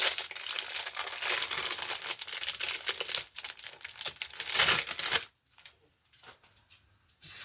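Plastic inner bags holding a squishy silicone candle or resin mold are cut open, giving close, busy crinkling and snipping that rustles continuously, then thins to a few scattered crackles.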